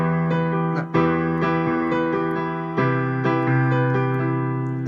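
Piano chords from a song ring out alone, a steady sequence of sustained, overlapping chords struck every second or so, with one brief gap before a new chord lands.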